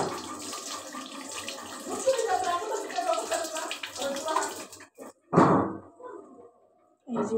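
A guava is rinsed under a running tap, steady splashing water with a voice talking over it, then a few brief clatters and splashes after the flow stops.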